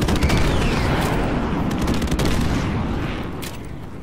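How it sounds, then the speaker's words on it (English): Rapid gunfire and bursts of an airstrike from the video game Modern Warfare Remastered crackle in a dense volley, with sharp repeated shots over a rumbling explosive wash that slowly fades toward the end. "Friendly airstrike on the way."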